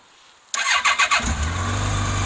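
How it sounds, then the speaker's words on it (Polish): A motorcycle engine cranks with a few quick pulses, catches, and settles into a loud, steady idle close by. "No ja właśnie odpalam motocykl, który się chwilę rozgrzał"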